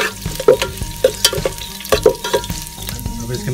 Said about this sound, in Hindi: ऑयल और उसके अंदर कांदा और लहसुन डाल दिया है